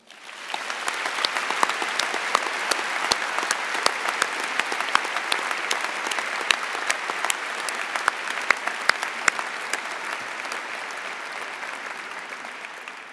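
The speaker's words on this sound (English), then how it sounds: "let's take a moment and show them your appreciation with a rapturous round of applause" A large graduation ceremony audience at an engineering faculty commemoration day applauds steadily, dense sustained clapping filling the hall for over ten seconds before easing off.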